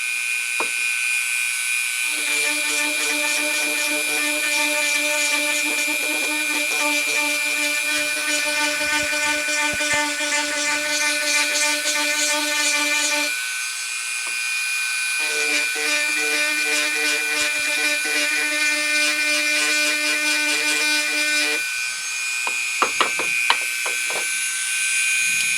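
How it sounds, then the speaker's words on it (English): A power tool's grinding bit sands down a tree stump, whining in two long, steady high-pitched bursts separated by a brief pause, ending in a few scrapes. "Let's see what we can do with this grinding bit."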